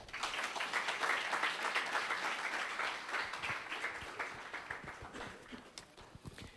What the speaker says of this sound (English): With a round of applause, please let's welcome Dr. Joseph Boni.